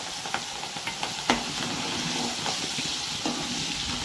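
Turmeric and a ginger, chili and garlic paste hit hot homemade peanut oil over a low flame, giving a steady close hiss and sizzle with a few small crackles and pops throughout.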